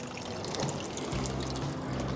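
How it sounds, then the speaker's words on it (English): Splashing and trickling of water as a float-style fishing underwater camera is dipped in, a continuous close, loud watery wash throughout. "So I'm going to dip this in the water."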